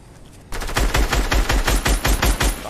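Rapid, sustained automatic gunfire from a rotary minigun in Fortnite starts abruptly and hammers on loudly in a steady rhythm.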